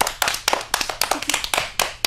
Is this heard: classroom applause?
yes